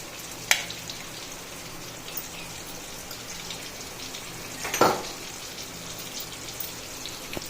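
Dry fruits frying in ghee for rava kesari, giving a steady, bright sizzle and crackle with a couple of clinks of a spoon against the pan.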